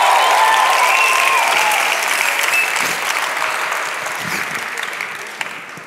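A church congregation applauds and cheers during a sermon, a loud, continuous wash of clapping and crowd noise that slowly tapers, with faint voices and whistles mixed in.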